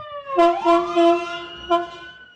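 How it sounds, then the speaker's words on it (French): Ambulance siren on Skid Row in Los Angeles, a loud wailing tone that rises and falls in several swells, clear and fairly close, with no talking over it. "On a déjà entendu pas mal d'ambulances."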